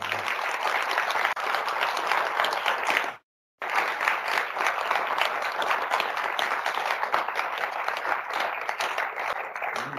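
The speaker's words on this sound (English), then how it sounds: "So give them a very warm round of applause." Loud, dense applause from a university debate audience carries on steadily for about ten seconds, broken by a short gap of silence before the clapping resumes.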